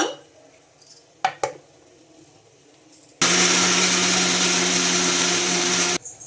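A mixer grinder whirs loudly and steadily for about three seconds, grinding a ragi idli chutney with dry coconut powder, salt and a little water, after scattered quiet kitchen clinks and handling noises.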